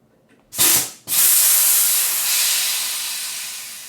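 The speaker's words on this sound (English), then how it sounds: "Shut off the air compressor." An air compressor lets out two loud bursts of hissing air as it is shut off, the second becoming a long steady hiss that slowly fades, with no voices.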